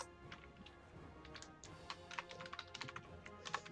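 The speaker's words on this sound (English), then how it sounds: "I hear furious typing." Rapid, uneven clicking of keys on a computer keyboard, close and fairly quiet, with bursts of fast keystrokes and no talking.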